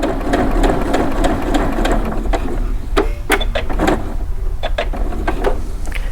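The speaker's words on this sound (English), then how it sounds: "I'm going to stitch down to the point that's a 1/4 inch from the end of the fabric" A home sewing machine runs steadily, stitching a 1/4-inch seam in fabric, with a continuous whirring drone broken by brief mechanical clicks and clacks near the end.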